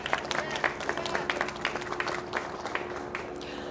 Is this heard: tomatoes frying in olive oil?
no